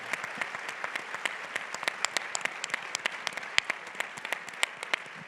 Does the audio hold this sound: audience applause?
yes